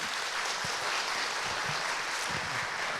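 Church congregation applauding to welcome first-time visitors during a worship gathering, a soft, steady patter of clapping from a room full of people, fairly distant and even.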